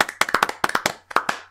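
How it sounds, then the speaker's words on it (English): A few podcast hosts give a sparse, quiet golf clap, with light, separate hand claps falling in short uneven bursts that pause briefly and then pick up again, close to the microphone with no talking. "Golf clap."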